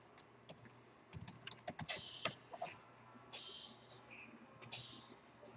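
Someone types a password on an HP TouchSmart 11z laptop keyboard, with soft, close clicks in quick bursts and short pauses, faint and with no talk.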